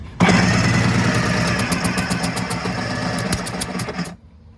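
The engine of a Kawasaki JS550 SX jet ski cranks steadily on the starter with its plugs back in, a loud, even churning with a rhythmic compression pulse that stops abruptly near the end.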